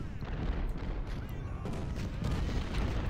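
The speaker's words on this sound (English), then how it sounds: "let's get some of these long-range guns to start opening up on his artillery" Long-range Civil War cannon fire in the Ultimate General: Civil War strategy game during the defense of Cemetery Ridge, a rolling series of dull booms and rumbling blasts, moderately quiet and continuous, with brief speech mixed in.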